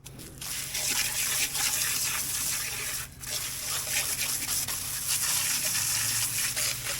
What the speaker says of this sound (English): I'm about to get this water hose here hooked up and we're gonna rinse out this cavity